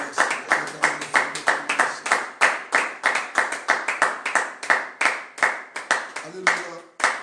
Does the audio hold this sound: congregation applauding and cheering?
yes